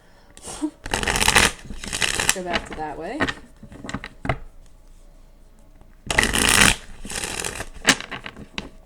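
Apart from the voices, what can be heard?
shuffling tarot cards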